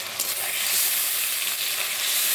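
Onion sizzling loudly in hot oil in a pan, a dense continuous hiss and crackle heard up close with no voices.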